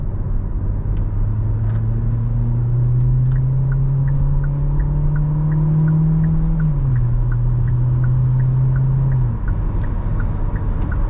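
A 2023 Hyundai Elantra sedan cruises steadily from the cabin, its engine drone rising slightly in pitch then dropping back, with road rumble and faint ticking throughout.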